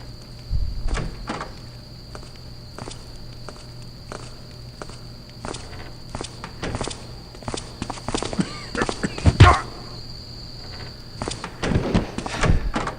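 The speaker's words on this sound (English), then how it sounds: "Just gotta listen for your footsteps." Footsteps of the player creeping through a level in the stealth game Thief, soft repeated steps pacing unevenly over a steady ambient hum with faint chirping, some steps louder and closer than others.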